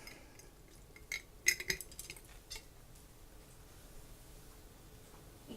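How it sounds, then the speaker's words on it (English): A bowl falls in a home kitchen during pot roast canning, giving a few quick clattering clinks and knocks close by, the loudest burst coming early and then fading to quiet. "Oh, there went my bowl."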